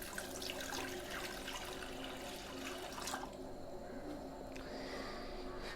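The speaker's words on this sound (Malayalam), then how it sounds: "കുറച്ച് വെള്ളം ഒഴിച്ചു കൊടുക്കുക." Water poured into a pressure cooker over jackfruit seeds, a continuous splashing rush that softens partway through, faint and steady with no voices.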